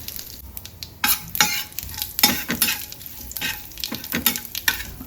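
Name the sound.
curry leaves sizzling in hot oil tempering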